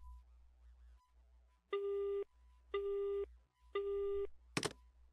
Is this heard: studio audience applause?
no